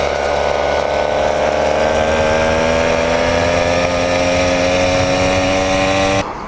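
An 80cc motorized mini bike engine running steadily while riding, a loud continuous buzzing drone with a strong rising pitch that holds for about six seconds before cutting off abruptly.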